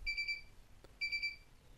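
A TMG industrial heavy-duty wheel balancer gives two short high electronic beep bursts, each a quick trill of tones about a second apart, faint and clean with a soft click between.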